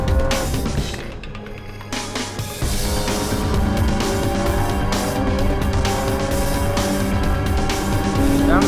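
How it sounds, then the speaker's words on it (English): A race car in a time attack event drives hard around a track, engine droning loud and steady throughout with shifting revs and gear changes, a brief dip early on before the power comes back on. "Brake. Foot flat. Steer with the throttle, constant steering angle, as Kevin taught me"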